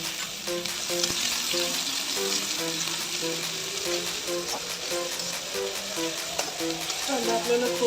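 Chopped onion dropped into hot oil in a home kitchen for egg Maggi noodles, a constant bright sizzle with repeated stirring scrapes and light ladle taps, close and loud with no talking.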